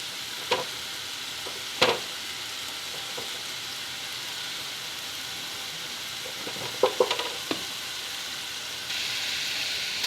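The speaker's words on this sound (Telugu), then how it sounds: "ఇప్పుడు తగినంత కారం వేసుకొని ఫ్రై చేద్దామండి." Masala paste with chili powder fries in a pan for a tangy raw-mango fish curry, a soft steady sizzle running throughout, broken by a few sharp utensil taps and scrapes, growing slightly louder near the end.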